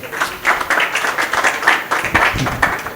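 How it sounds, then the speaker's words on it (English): A small group claps in a short round of applause for a young man being introduced, uneven and bursty, fairly close, lasting a few seconds with no voices over it. "Put a round of applause for him."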